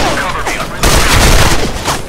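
Gunfire in the video game Soldier Front 2: a dense burst of shots and booms, loud and close, with a heavier barrage partway through, with talk mixed in.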